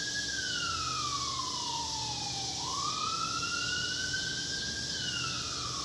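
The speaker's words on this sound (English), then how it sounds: "Sorry, an ambulance is going by, so you probably hear that." An ambulance siren passes nearby, its wailing tone sweeping down and then back up, loud and steady throughout with no talk over it.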